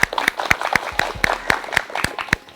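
Sparse, evenly spaced hand claps from a small audience at a World No Tobacco Day health talk, sharp and fairly close, with no voices over them.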